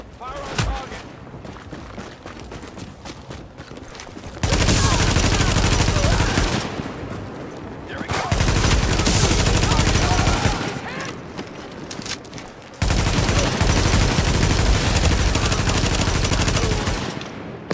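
Automatic gunfire from the shooter game The Division comes in three long, loud sustained bursts separated by quieter stretches with scattered shots and battle noise.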